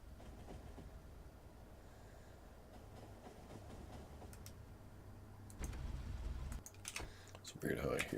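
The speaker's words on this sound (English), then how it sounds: "It's weird how I hear other trains passing too in the same way." Trains roll by in the game Factorio, a steady low rumble and clatter that swells louder near the end, with faint ticking sounds layered on top.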